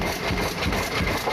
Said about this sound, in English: He ran a grist mill, power saws, even a planing mill, all driven by this engine